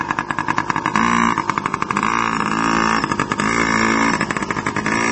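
Child's dirt bike engine revving nearby in a yard, a buzzy, rising and falling whine with repeated throttle blips, loud and steady over about five seconds.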